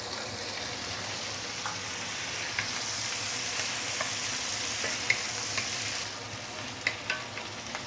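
Vegetables sizzling and stir-frying in a hot wok for KL Hokkien mee, a steady loud hiss with scattered clicks and light scrapes from the utensil, growing busier toward the end.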